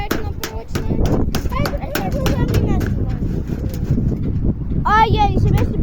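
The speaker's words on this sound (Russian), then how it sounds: "Да господи, ветер!" Outdoor wind buffets the microphone in a constant loud rumble while someone handles sticks, with brief vocal fragments cutting through near the end.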